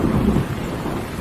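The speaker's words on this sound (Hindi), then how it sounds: "ऊपर से बारिश भी तेज हो गई।" Heavy rain pours in a dense, steady roar, with a deep rumble of thunder rolling through it.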